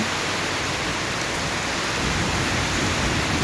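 Steady rain pours outside a smoky firewood kitchen in an African village, a loud, even hiss that fills the whole stretch without a break and with no voices.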